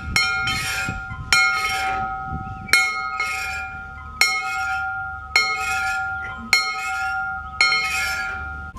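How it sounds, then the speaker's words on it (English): A locomotive's bell at a heritage depot museum in West Liberty, Iowa, rung in seven clear, evenly spaced strikes, each ringing on and fading before the next, loud and close with no talking. "even ring the locomotive's bell"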